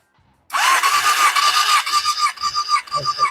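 A Suzuki GSX600F motorcycle engine cranks steadily on the starter with the throttle held wide open for a compression test, a close, loud, rhythmic whirring with pulsing compression strokes that never catches.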